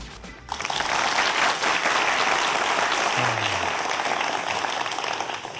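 Lecture hall audience at a popular science talk claps warmly in a steady, dense burst of applause that carries on for several seconds without speech.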